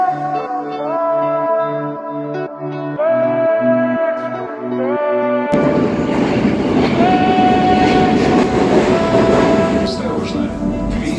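A Saint Petersburg metro train's melodic horn or chime tones play at a station, then a loud rumbling rush of the train takes over, with the tones continuing above the roar.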